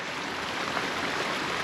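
A small creek at Cumberland Gap flows steadily nearby, a continuous soft hiss of running water with no talking over it.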